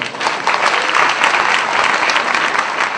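A crowd at a Hindi religious sermon bursts into loud, dense applause, sustained evenly and close, with no one speaking over it.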